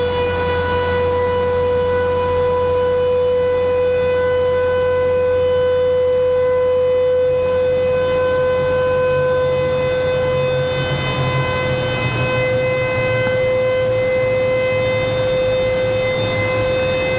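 A ground power unit at snowy Raleigh-Durham International Airport strains to start a CRJ jet, giving a loud, steady, high mechanical whine with layered tones that holds throughout, with no talking.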